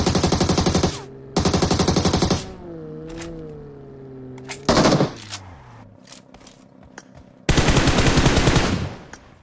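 Automatic machine gun fire in a Portuguese-language solo-versus-squad shooter game, heard as loud rapid bursts that repeat several times with quieter game sounds and tones between them.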